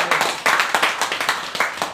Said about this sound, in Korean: 그럼 박수로 예. 응원해 주십시오.